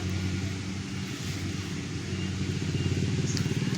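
A motorcycle loaded with harvested rice passes by during a rice harvest, its steady engine drone rumbling throughout and growing slightly louder toward the end.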